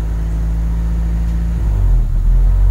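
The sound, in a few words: Honda City engine at unstable idle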